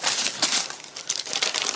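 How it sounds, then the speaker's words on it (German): Paper is crumpled and torn as a sound effect in a German radio crime play, a bright, rustling crackle in several quick bursts over under two seconds, close and fairly loud with no voices. "Zerreißen von Papier."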